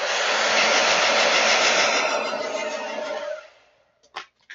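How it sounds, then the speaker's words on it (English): A blow dryer runs steadily at full roar while drying a painted board, then winds down and cuts off, followed by a few faint clicks and handling sounds. "So you're going to hear the blow dryer in just a second."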